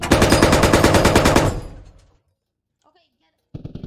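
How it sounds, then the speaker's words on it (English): Loud automatic gunfire fired into the air in the military shooter game Squad: a rapid, evenly spaced burst for about a second and a half, a decaying echo and near silence, then another burst starts. "I guess I'll shoot the air."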